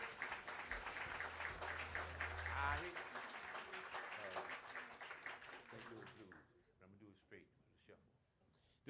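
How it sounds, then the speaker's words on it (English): Audience applause at a banjo and guitar festival, a dense crowd of clapping that swells for a few seconds and then thins out, with speech over and after it. "Give yourselves a round of applause."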